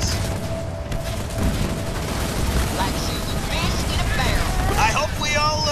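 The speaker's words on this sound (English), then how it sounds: "Spartan Jerome under fire from vehicles" Gunfire against vehicles in the Halo Wars 2 video game, bursts of shots and booms under a busy battle mix, with voices speaking over the action.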